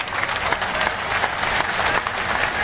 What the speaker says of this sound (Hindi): वर मन के यही कर ले बैठ के जोरदार ताली बजा के स्वागत करो